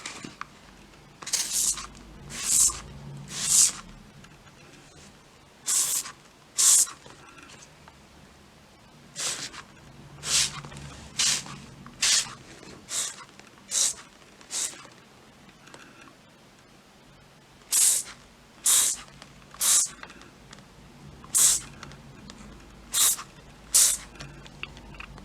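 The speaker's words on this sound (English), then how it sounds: "And then just spray the surface." Zinsser mould killer is sprayed onto a surface from a trigger nozzle, coming as short hissing bursts, often in quick runs of two or three, repeating across the stretch with quiet gaps between, close and clear with no voices.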